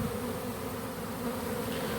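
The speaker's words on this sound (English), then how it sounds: "I'm going to try to not hurt any of these bees down here." A swarm of honey bees drones in a dense, continuous buzz close by, a full steady hum from many wings without breaks.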